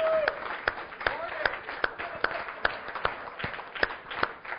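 A small audience claps in a steady, evenly spaced rhythm of sharp, distinct hand claps, close and fairly loud, with no talking.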